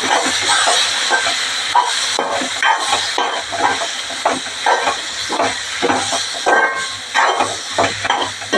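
Fenugreek and fennel powder sizzling in oil in a pan for Kerala fish curry, a loud continuous hiss with irregular crackling and spatter pulses throughout, close up and without talking.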